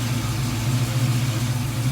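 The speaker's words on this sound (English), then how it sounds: "beautiful LS3 416 stroker motor humming away" A 1981 Turbo Trans Am's LS3 416 stroker V8 with a BTR Stage 2 cam idles steadily and loudly up close, a smooth even hum with no revving or talk.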